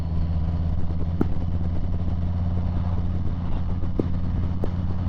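Harley motorcycle being ridden, a steady loud engine drone running throughout with a few brief clatters on top, no talking.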